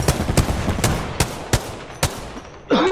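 Gunfire in the battle royale game Apex Legends: several sharp, loud shots spaced out in an irregular rhythm, followed by a burst of other game effects near the end.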